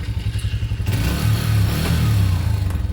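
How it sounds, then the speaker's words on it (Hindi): A 150 cc motorcycle engine, first idling with a rapid loud pulsing throb, then revving up into a higher, sustained roar that rises and wavers close by. "मेरा मोटरसाइकिल भी आवे भाई"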